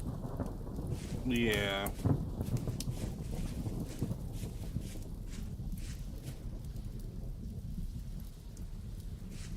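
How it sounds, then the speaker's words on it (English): Heavy rain pours steadily in a Vintage Story thunderstorm, with a loud rolling thunder crack near the start that fades into continuous downpour; a voice speaks briefly. "The storm is really trying to get us."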